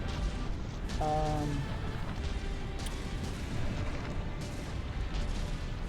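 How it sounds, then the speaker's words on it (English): Video game boss battle with incoming missiles and shells, rumbling booms and bursting explosions layered densely over a constant roar, with a brief tonal alarm-like whine near the start. "Try and deal with those missiles coming in, not able to take all of them out"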